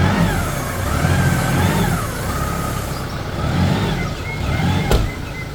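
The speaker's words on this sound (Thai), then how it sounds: "มาสตาร์ทฟังเสียงเครื่องมาดู" A used pickup truck's engine runs steadily and is revved in gentle swells, a continuous mid-pitched motor drone heard close by with a small knock near the end and no talking.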